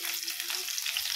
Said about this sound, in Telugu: ఇది కొంచెం దూరగా వేగాలన్నమాట ఎల్లిపాయ.